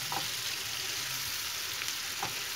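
Onions sizzle and crackle steadily in a pan, a close, continuous frying hiss with small pops and an occasional faint stir.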